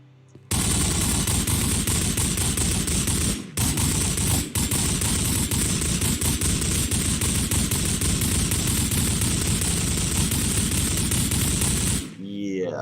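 Rapid-fire kinetic guns in modded Minecraft, unleashing a loud, continuous stream of shots for about eleven seconds with two brief breaks, stopping abruptly near the end.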